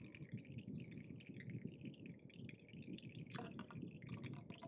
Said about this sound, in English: So I hear a little bit of a trickle